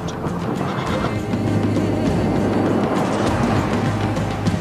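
Auxiliary cavalry horses in a Roman-era battle game whinny over a constant low rumble of massed troops and hooves, the neighs rising briefly from a dense, loud battlefield din.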